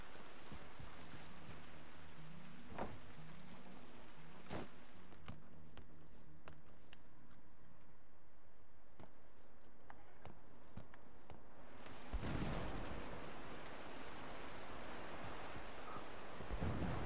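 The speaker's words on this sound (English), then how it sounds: "It just started raining where I am" Rain in the video game Generation Zero, a soft steady wash of falling drops, with scattered sharp ticks and footstep-like thuds, swelling into a louder downpour near the end.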